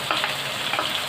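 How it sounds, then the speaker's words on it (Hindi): Ginger and garlic frying in oil with chicken and onion give a steady, close crackling sizzle with no talk. "अदरक लहसुन को भी ऑयल में ही पकाएंगे चिकन और प्याज के साथ"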